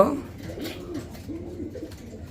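A pair of imported pigeons in a cage giving soft, low coos close by, with someone talking over them.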